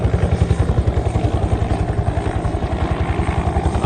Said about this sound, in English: The red helicopter is coming in now, and he's coming down right here into the car park.